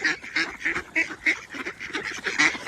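Ducks quack repeatedly in a busy, overlapping chorus, nasal calls coming in quick bursts at moderate distance with no talking.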